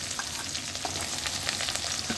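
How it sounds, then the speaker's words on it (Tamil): Fennel seeds, onion and green chilli fry in a ladleful of oil for a raw banana kootu, making a dense, loud, unbroken sizzle with soft crackles throughout and no talking. "ஆயில் ஒரு கரண்டி சேர்த்துக்கலாம். சோம்பு, வெங்காயம்,"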